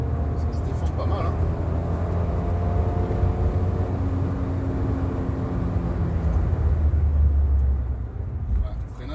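A Fiat 500 S with a 0.9 TwinAir 105 hp engine drives at a sporty pace, its steady engine drone and road rumble continuous throughout, with a voice talking over it.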